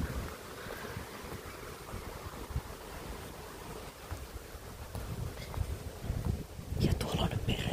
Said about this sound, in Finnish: siitä ei nyt kuulu kyllä mitään ääniä paitsi tuulen suina